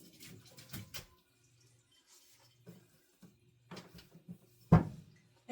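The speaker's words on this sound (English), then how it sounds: "then I'm going to put this over here and drain it" Liquid drained off cooked food in a kitchen, with short splashy pours and water bursts separated by quiet gaps, plus a few clanks of cookware, one louder splash near the end.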